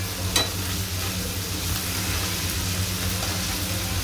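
Two medium tomatoes frying in a pan with salt while being stirred, an even continuous sizzle with faint scraping strokes, close and steady with no talk.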